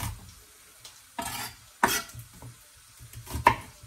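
Ginger and garlic frying in a pan for an aubergine and chickpea bhuna, with a steady sizzle broken by three sharp scraping stirs of a utensil, close and loud with no voices.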